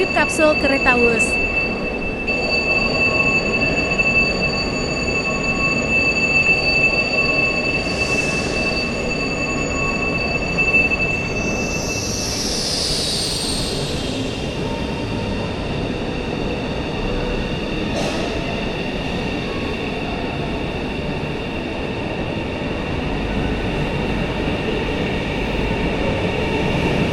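Inside a Whoosh high-speed train on the Jakarta–Bandung line, a steady loud rumble runs throughout with high wheel squeals and whines rising midway, and occasional voices heard under the noise.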